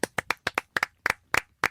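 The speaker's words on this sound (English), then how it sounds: "No, just clap." Hand clapping close up, about a dozen sharp separate claps at an uneven, loose rhythm with silence between them, nobody speaking.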